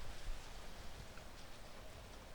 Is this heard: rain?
yes